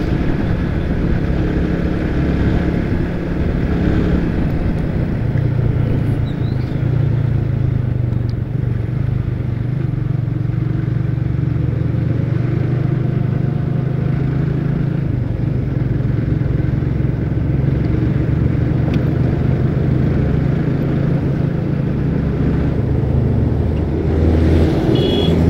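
The engine of a mountain bus in a race between Murni 175 and Sutra 157 drones loud and close, a sustained low roar that holds steady under acceleration for the whole stretch and rises slightly near the end, with no talking.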